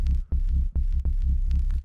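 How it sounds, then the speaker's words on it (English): A deep, throbbing distorted synth bass tone pulses in a steady rhythm, gritty and growly, with short gaps between notes. "you get this kind of extra kind of growly harmonic coming through"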